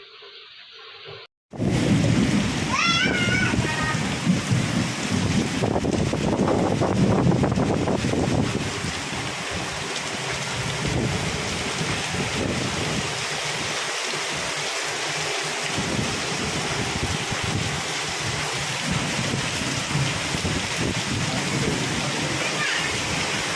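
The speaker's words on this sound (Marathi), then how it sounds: "पावसाने जोरदार एंट्री केल्यामुळे" A heavy downpour in Pandharpur roars steadily and loudly, a dense unbroken wash of rain that starts abruptly, with a voice speaking over the first part.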